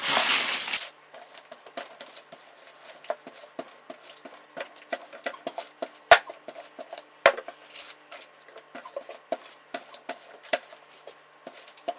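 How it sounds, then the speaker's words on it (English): Pie dough for a cherry pie being rolled out on an old cutting board, with soft irregular knocks and taps of the rolling pin, a few sharper clacks, close and quiet after a brief noisy burst at the start. "So I'm going to just roll out the dough."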